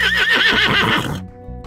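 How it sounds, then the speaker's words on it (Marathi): Horse neighing, a loud close whinny with a quavering, shaking pitch that lasts about a second before cutting off abruptly. "H for horse,"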